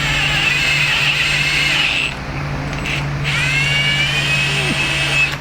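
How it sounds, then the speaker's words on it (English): A power drill whines as it bores out screws on an Ozark Trail Ridge M2 bicycle from Walmart, a loud, steady high-pitched motor tone that briefly drops off and then spins back up. "in order to change out these screws, I have to do the same thing I did on that and drill these out"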